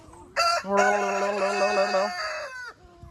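A farm rooster crows loudly and close by in one long, strained cock-a-doodle-doo call lasting about two seconds, followed by a brief quieter tail.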